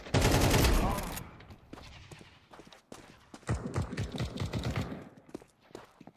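Rapid rifle gunfire from Counter-Strike 2 deathmatch on Dust II, a loud dense burst at the start, then scattered sharp shots and clattering impacts at a middle distance.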